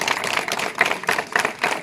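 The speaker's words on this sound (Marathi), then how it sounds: "या दोन हारांसाठी तुमच्या शाळेच्या वतीने टाळ्या होऊन जाऊ दे" A school group at Raigad Fort claps together outdoors, a dense, steady patter of many hands that is moderately loud and continues without pause for the whole stretch.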